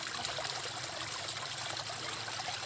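Water flows and trickles steadily in a stream, a constant bright rushing sound with no voices.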